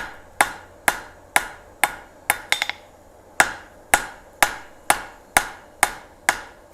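Hammer blows ring out on hot steel over an anvil horn as the corners are knocked off a bar, about a dozen sharp, close metallic strikes in a steady rhythm, with a quick triple bounce midway.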